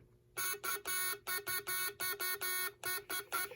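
The harsh electric buzzer of a 1948 Morse code practice set sounds in a dozen short bursts of uneven length, like keyed code, close and loud with a faint hum beneath.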